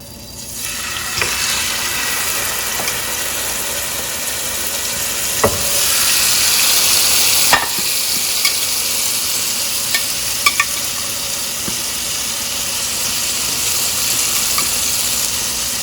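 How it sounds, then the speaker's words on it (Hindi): Steak marinated and dropped into a pan with two tablespoons of hot oil fries over high heat, a dense continuous sizzle that intensifies partway through, with a few faint clinks of stirring. "अब मेरे पास यहाँ पे 2 टेबलस्पून ऑयल है और ये इसको पैन में डालते हैं।"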